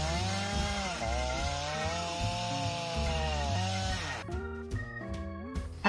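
A chainsaw runs close by, its engine whining and shifting in pitch, then dropping to sputtering bursts near the end.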